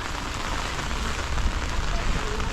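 Steady rain falls in Paris, a dense, even hiss of drops hitting surfaces that holds at a constant level throughout with no voices.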